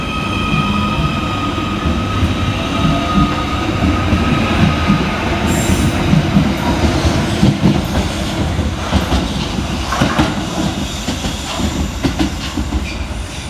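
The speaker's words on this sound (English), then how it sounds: "Next out to depart is 777 142, running the slightly delayed 1430 Merseyrail electric service from Liverpool Central through to Hunts Cross" A Merseyrail Class 777 electric train pulls away from the platform, and a loud, continuous rolling rumble with rail clatter and a brief wheel squeal builds steadily as it departs.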